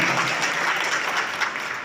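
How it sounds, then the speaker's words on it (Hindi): Dense applause from an audience at a gathering honouring farmers, steady and fairly loud throughout, with no voices over it. "हमारे कृपया तालियों से स्वागत किया जाए"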